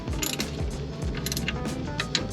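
A hand ratchet clicks rapidly as transmission pan bolts on a 2006 vehicle are snugged down, close metallic ratcheting in quick bursts without any speech.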